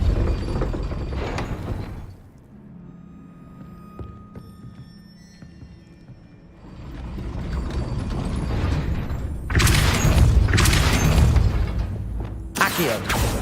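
A Depulso force-push spell fires in the Hogwarts Legacy video game, with bursts of whooshing blasts and rumbling impacts against a mechanical, creaking background, under occasional spell-casting voices.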